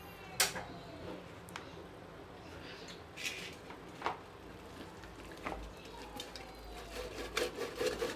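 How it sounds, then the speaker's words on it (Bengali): Ripe palm fruit pulp is rubbed slowly through a sieve to extract the juice: quiet, irregular scraping strokes with occasional sharp clicks and taps close by. "এই যেরকম করে আস্তে আস্তে ঘষে ঘষে নিলে নিচ থেকে এটা পড়ে যাবে।"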